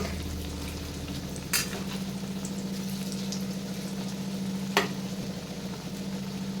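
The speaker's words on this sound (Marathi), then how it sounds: "उलट पुलट करून हे मुटके आपल्याला सोनेरी रंगावर तळून घ्यायचे" Chana dal dumplings (mutke) deep fry in hot oil over a medium flame, a steady bubbling sizzle with a low hum beneath it and two sharp clicks.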